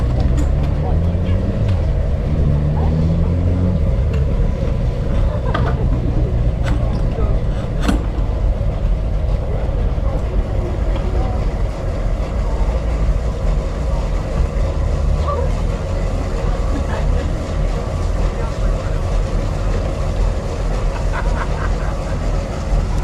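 Steady low drone of a boat engine heading out of a harbour, a continuous rumble running throughout while people talk over it.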